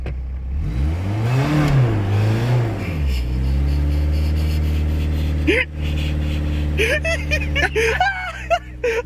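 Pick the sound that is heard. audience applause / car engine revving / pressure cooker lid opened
car engine revving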